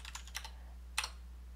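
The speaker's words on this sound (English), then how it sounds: "Okay, I have to type run." A handful of computer keyboard keystrokes entered as a short command: a quick cluster of clicks, a pause, then two more close taps, crisp and near over a faint steady hum.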